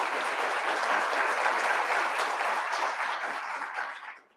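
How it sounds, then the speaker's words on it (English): A crowd at a law enforcement training academy graduation applauds military veterans, sustained clapping that stays full for several seconds before fading out. "Give them a round of applause"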